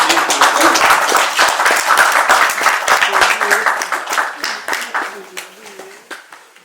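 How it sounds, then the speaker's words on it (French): A crowd claps steadily for several seconds at a baptism ceremony, the applause loud at first and slowly thinning out as it fades, with voices faintly mixed in. "On applaudit pour ça."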